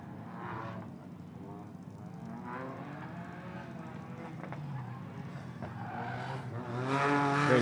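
At a European autoslalom championship, a Toyota Yaris race car drives the course with its engine revving steadily and rising near the end, tires faintly squealing, under an announcer's voice.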